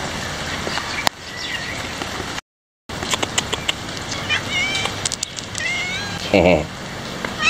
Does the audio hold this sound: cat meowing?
yes